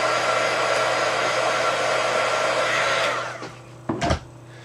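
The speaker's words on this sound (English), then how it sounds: "I'm just heating up my glue." A heat tool warming glue for a tag book makes a loud, steady, close whooshing blow that winds down near the end, followed by a couple of brief knocks.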